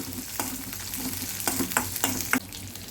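Small shallots sauté in oil in a pan, giving a steady close sizzle broken by about five sharp scraping clinks of stirring at uneven intervals, with no voices.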